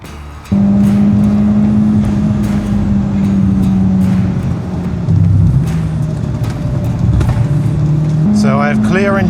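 Car bought at auction running hard on a race track, its engine droning loud and steady with pitch dips and climbs as it stutters around 4,000 to 5,000 RPM between gears; a voice talks over it.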